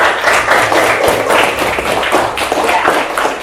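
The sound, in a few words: classroom students clapping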